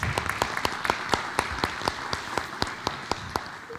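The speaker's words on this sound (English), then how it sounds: "Let's give board member Old a round of applause." A small audience at a school board of education meeting claps steadily for a board member, a light, even patter of individual hand claps with a clear rhythmic pulse throughout.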